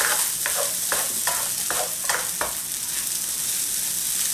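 Quinoa with portabella mushrooms stir-fried in a pan, about six rhythmic scraping stirs over a steady close sizzle, then the sizzle continuing alone.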